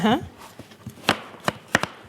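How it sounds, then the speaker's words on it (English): Carrots chopped with a knife on a board in a home kitchen while soup boils, three or four sharp, distinct chops spaced about a third of a second apart after a brief voice at the start. "So as this will be boiling, we are going to chop the rest."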